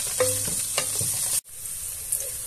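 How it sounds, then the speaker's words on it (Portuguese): Bacon sizzles in a hot pan while a utensil scrapes and stirs it, with clanking strokes early on, then a brief drop-out followed by steady close frying hiss; no one speaks. "E vamos fritar esse bacon."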